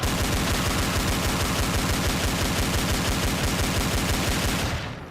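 Rapid, continuous automatic gunfire in a multiplayer video game, a loud, steady rattle of close shots that holds for several seconds and then cuts off at the end.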